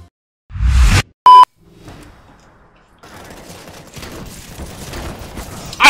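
CS:GO gunfire opens with a loud short burst, then a sharp electronic beep, followed by a quieter spell and scattered distant shots and clatter building toward a final loud hit.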